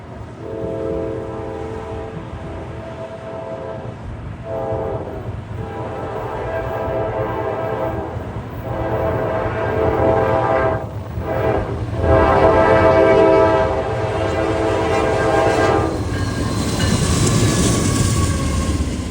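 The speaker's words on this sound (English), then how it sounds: "here's old reliable NS train 29G, arguably the hottest westbound on the Harrisburg" Norfolk Southern freight train 29G passes westbound on the Harrisburg line in eastern Pennsylvania, loud and close. Its horn sounds in several long blasts over the steady rumble and clatter of the rail cars, with no talking.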